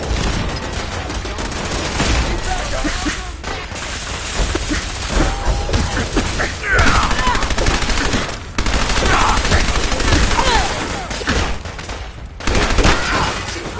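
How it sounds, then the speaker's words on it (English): Sustained automatic gunfire from the video game Fallout 4 rattles in dense, rapid bursts with brief gaps, loud and close throughout, with a short shouted voice mixed in. "Taking fire!"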